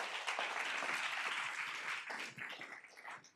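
A school board meeting audience applauds a graduating high school student headed to study biomedical engineering: dense, even clapping from a room crowd at moderate distance, thinning and becoming more scattered toward the end.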